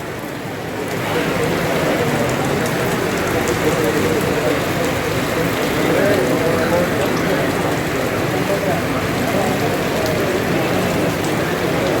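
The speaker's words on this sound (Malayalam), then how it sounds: "കാലാവസ്ഥ വല്ലാത്ത മഴയാണ് പുറത്ത്." Heavy rain outside, a dense and steady wash of falling water with no breaks, loud and close throughout.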